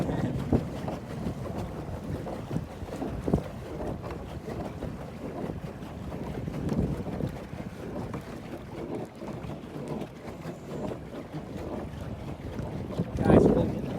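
Strong wind buffets the microphone while a kayak is paddled solo on open water, a constant low roar with faint water sounds and a brief splash near the end, and a voice speaks now and then.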